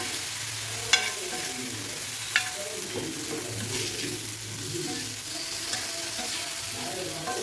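Raw plantain slices frying in oil in a pan, a steady close sizzle and bubbling with a couple of sharp clicks from the spatula.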